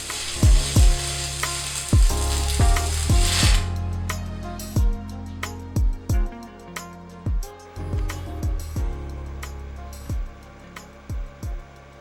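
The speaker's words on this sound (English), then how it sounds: "it's time to weld everything together, so the cart can have 4 wheels again" Welding on a soapbox racer's steel frame and rear axle produces a steady sizzling crackle at first, then repeated sharp thuds and bangs in uneven rhythm, loud and close with no talk.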